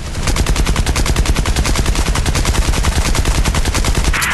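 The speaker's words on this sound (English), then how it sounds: "taking heavy fire!" Rapid, continuous machine-gun fire from aircraft in the War Wings mobile combat flight game, a dense steady stream of loud shots without a break.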